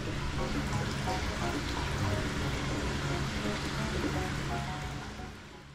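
Sulfur hot spring water overflows from a bath in a spring with indoor and open-air pools, a steady rushing, splashing wash that stays constant and then fades slightly at the end.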